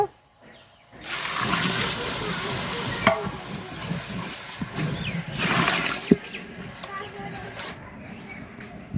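Water poured into a pot of browned rice and meat for a biryani, a loud rushing pour with hissing that runs for several seconds before easing off, with clinks in between.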